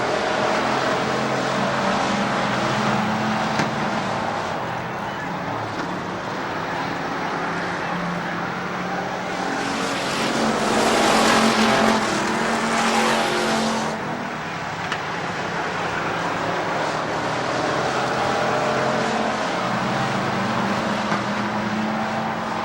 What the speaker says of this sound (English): Eight-lap heat races here for the Roadrunners.